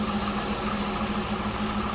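A 2003 Chevrolet Corvette 50th Anniversary convertible's 5.7-liter LS1 V8 idles smoothly and steadily, a close, even low rumble with no voices.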